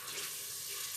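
Broth poured into a pot of gently browning onions, a steady close rush of flowing liquid lasting about a second.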